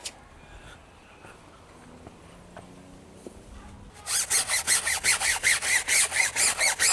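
A brush scrubs a foam-covered car body in fast, steady back-and-forth strokes that start loud and close after a quiet stretch of faint handling noise.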